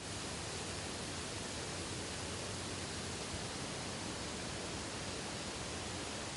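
Flood water pours like a waterfall over a gorge-side restaurant in Verkhnyaya Shera, Abkhazia, producing an unbroken, even hiss-like roar of cascading water with no voices.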